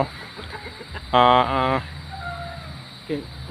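Laying hens cluck and call loudly nearby, one bird giving a long drawn-out squawk and shorter clucks following, under a steady background hum with a person talking.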